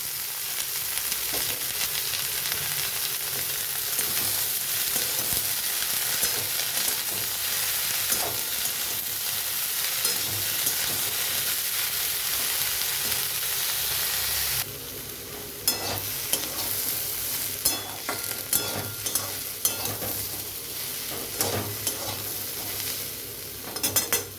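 Onion, green chili and nigella seeds frying in a karahi, then vegetables added: a continuous close sizzle that grows brighter and crackly partway through, with spatula scrapes and stirring clatter, no voices.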